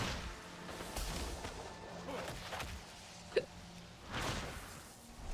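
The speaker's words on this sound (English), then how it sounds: "And now you've got hiccups." A person hiccups once, sharp and close, in a quiet indoor room with low background noise and faint movement around it.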